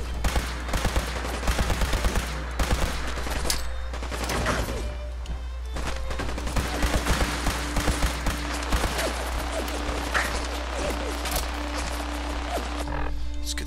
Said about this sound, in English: Still getting shot at.